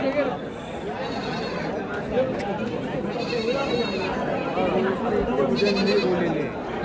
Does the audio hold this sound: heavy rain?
no